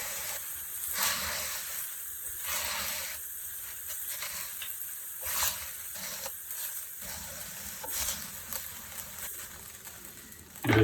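Pork medallions browning in oil in an electric skillet over medium-high heat, a steady sizzling hiss with fluctuating crackly bursts throughout.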